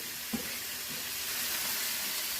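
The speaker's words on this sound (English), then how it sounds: "Putting your big, beautiful cubes of grass-fed sirloin steak." Cubes of grass-fed sirloin steak searing in a Dutch oven, giving a steady broad sizzle with one small knock near the start, close and continuous without talk.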